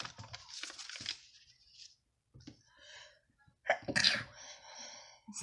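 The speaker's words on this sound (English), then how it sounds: "I can't stop sneezing and coughing" A person with a cold sneezes sharply and loudly, close to the microphone, after a few quieter breaths and short sounds earlier on.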